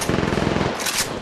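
Rapid automatic gunfire in the mobile shooter game Apex Legends Mobile, a fast burst of closely spaced shots lasting about a second, loud and close.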